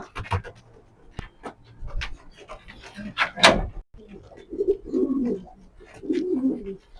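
Racer pigeons coo in repeated soft, throaty bursts close by, with wing flutters and rustling among them and someone talking between the calls.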